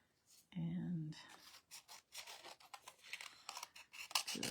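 Scissors cut out a paper shape for a handmade card, giving a brief close snip followed by soft, irregular rustling and scraping strokes at low volume.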